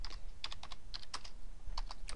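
A rapid run of close, crisp keystrokes on a computer keyboard as a search is typed, steady and even throughout with no talking.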